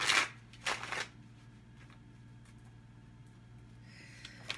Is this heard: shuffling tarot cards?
yes